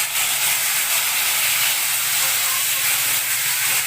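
Chicken pieces go into a hot pan with browned onions and cloves, giving a loud, steady hiss of sizzling that fills the whole moment without a break.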